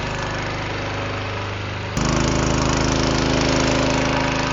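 Small gas engine on a 300-gallon tool box style sprayer running steadily, then stepping up to a louder, higher drone as the throttle is opened, loud and close.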